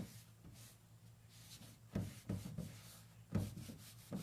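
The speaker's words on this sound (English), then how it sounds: "you're just going to want to rub the wax off that you just put on" Annie Sloan wax being rubbed off a piece of furniture with a cloth, giving soft, intermittent scuffing strokes with a few louder swipes near the end, close and quiet, with no talk.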